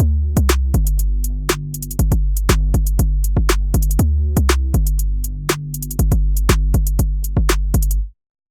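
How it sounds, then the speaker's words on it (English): A synthesized 808 bass built from scratch in the Meld synthesizer plays a rhythmic pattern of deep booming notes under crisp percussive hits, loud and steady before stopping abruptly at the end. "I'll show you how to synthesize an 808 bass from scratch using Meld"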